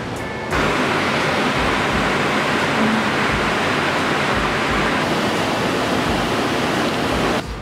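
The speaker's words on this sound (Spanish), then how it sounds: "Y se puede escuchar el río." A river rushes beside a national park, a loud, broad, steady roar of flowing water that starts abruptly and holds evenly until cutting off near the end, with no talking.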